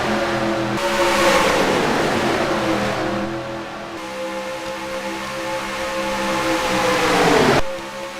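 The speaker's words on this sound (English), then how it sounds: "Kyle Busch is leading at Daytona." Race car engines roar at Daytona in the NASCAR Racing 2003 video game, a loud sustained pack of cars with pitch sweeping down as cars pass, a brief drop near the end.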